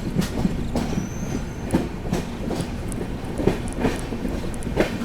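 The 12450 Goa Sampark Kranti Express runs through the monsoon Konkan countryside, wheels clicking over rail joints in a steady rhythm beneath a continuous rumble, with a faint high squeal, heard from on board.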